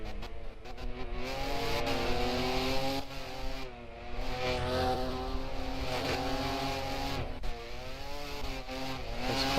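Formula race cars in a racing video game circulating behind the safety car at the Singapore GP, a continuous loud engine drone with wavering pitch as revs rise and fall, briefly dipping before surging on.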